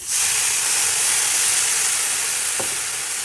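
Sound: water poured into hot roasted semolina and sugar, hissing

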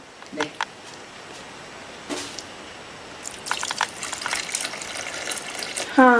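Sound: adding lukewarm water to the coconut mixture

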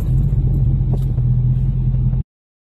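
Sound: car driving slowly up onto ramps

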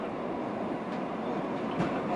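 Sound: Mugunghwa passenger train running

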